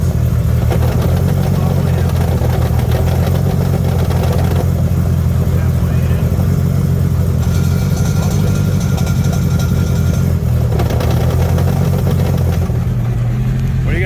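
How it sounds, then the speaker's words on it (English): A high-horsepower car with its clutch pedal held halfway out gives a loud, steady, rumbling clutch-disc chatter over a constant low engine drone that runs the whole time. "And now you hear the clutch disc chatter."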